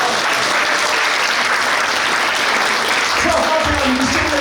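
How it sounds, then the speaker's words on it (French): Church congregation applauding during a pastor's sermon, a loud, steady wash of clapping from many people filling the space, with brief voices rising near the end. "Applaudissez-le."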